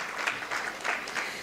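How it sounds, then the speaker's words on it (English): A symposium audience applauding, a brief, steady patter of many hands clapping in a hall at moderate volume. "you can clap."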